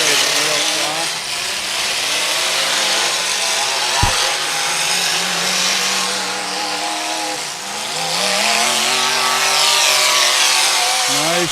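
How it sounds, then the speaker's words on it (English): Demolition derby car engines rev hard and wind out at a live derby event, a loud continuous roar with rising and falling pitch sweeps, one sharp bang near the middle, and a commentator's voice talking over the noise. "boy, that motor's wrapping out and winding up"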